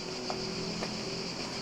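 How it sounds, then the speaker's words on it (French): Cicadas sing in the warm countryside near Berat, Albania, a steady, unbroken high buzz that fills the air from nearby trees, with no voices and only a faint breeze underneath. "C'est pas archi relaxant franchement, ce chant des cigales? C'est magnifique"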